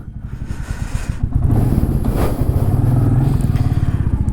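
Motorcycle setting off at the start of a long-distance ride to Adi Kailash, its engine revving up into a loud, steady rumbling throb close by, with no talk.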